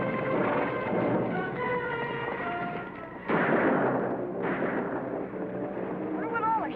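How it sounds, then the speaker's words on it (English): Gunshots ring out in a Western-style radio drama, several sharp cracks and echoing reports over a rumbling scene, with music and voices mixed in. "Wonder what all the shooting's about, Uncle Sandy?"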